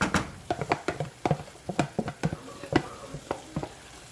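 Fish and seasoning stirred in a sizzling frying pot for Liberian ground beef, cabbage and rice: a close, rhythmic series of spoon scrapes and clacks over a soft steady fry, with no talking.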